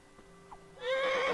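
A horse in Kingdom Come Deliverance lets out a short, loud, wavering whinny that starts abruptly after a moment of quiet, with a faint hoof clop before it.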